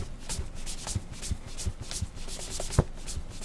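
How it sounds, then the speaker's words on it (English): A nylon cloth brushes and buffs an exclusive Magnanni leather shoe during a shoe shine, giving soft, quick rhythmic rubbing strokes close to the mic, quiet and with no talk. "Now I like to use a little nylon here to brush it out, buff it out, and make it look good."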